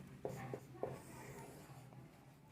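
A pen or marker writing a number on a board or paper during a maths lesson, soft scratchy strokes in a few short bursts, quiet and close with no talking.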